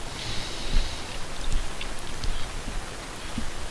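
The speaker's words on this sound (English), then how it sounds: "It's also raining in game." Steady in-game rain hisses softly as a continuous wash, with a few faint low thumps scattered through it and no speech.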